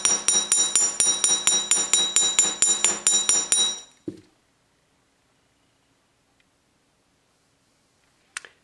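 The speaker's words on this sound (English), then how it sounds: "I'm going to give it a little tap, just flatten it a little bit" A hammer taps a wire Christmas tree pendant to flatten it, giving a quick, even series of about fifteen sharp metallic clinks, then a single knock and silence with one faint click at the end.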